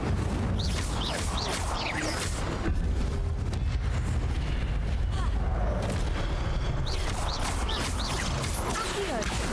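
Fire spell cast in Hogwarts Legacy amid a dense, loud wash of game combat, with booming blasts and crackling bursts throughout and a voice speaking over the noise.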